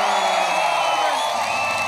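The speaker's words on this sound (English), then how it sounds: "This crowd going absolutely bananas." A fight crowd roars and cheers loudly and continuously after a rear naked choke submission win at a ONE Championship MMA event.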